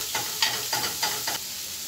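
Onion frying in a pan with meat juices for a Colombian steak dish, with steady sizzling broken by four or five scraping stir strokes close by, no talking.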